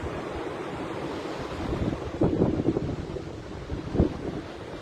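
Ocean waves roll and wash steadily with wind buffeting the microphone, and two fuller surges build and break at a moderate distance.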